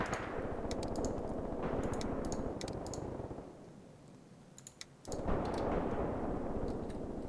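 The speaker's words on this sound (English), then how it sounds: "the mortars are starting to go" Mortar battery firing in the wargame Graviteam Tactics, with rapid repeated reports and sharp clicking transients in a dense, continuous barrage that drops away briefly near the middle before resuming at full loudness.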